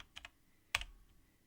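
A few crisp keystrokes on a computer keyboard while typing a search into Windows: two light taps, then a sharper, louder clack, close and otherwise quiet.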